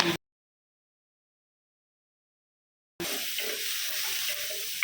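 Cabbage and vegetables frying in a little oil in a kadai, a steady close sizzle that starts abruptly after a long stretch of silence and carries on evenly to the end.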